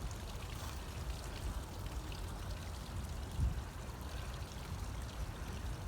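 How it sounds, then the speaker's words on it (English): Water splashing and pouring from a fountain in Fitzroy Gardens, a park in Melbourne, a steady dense wash of falling water with one brief louder splash midway and no voices. "I'm back at the fountain."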